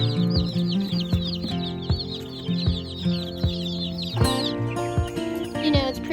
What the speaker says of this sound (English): their feed is over here with some silver lace Wyandottes and gold lace Wyandottes that we have